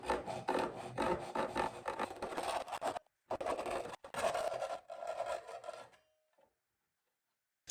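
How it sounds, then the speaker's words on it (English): A handsaw cuts through a piece of plastic from a motion lamp, making a close, rough rasping stroke sound in quick repeated passes for about six seconds before stopping into silence. "I'm just using a handsaw."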